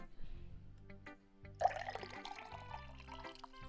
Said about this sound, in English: me pouring tea into a glass and not me pissing